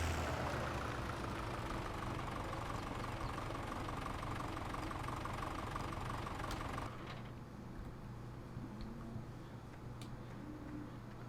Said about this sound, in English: Get this tractor out of the way.